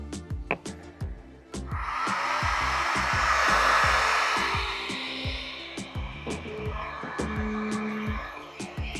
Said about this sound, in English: Now let's try to turn on our heat gun.